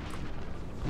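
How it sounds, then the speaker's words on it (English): Canister shot artillery fire in Napoleon Total War, a single dense low rumbling boom held for about a second, close and full with no voice over it. "gets close enough with the canister shot"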